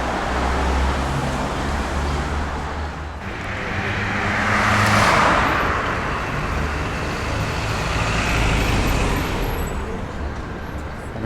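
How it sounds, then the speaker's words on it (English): Heavy traffic on a busy city street in Zhytomyr, Ukraine: a steady, loud roar of cars and larger vehicles, with passing vehicles swelling mid-way, heard close without clear talk. "a very busy town in terms of traffic"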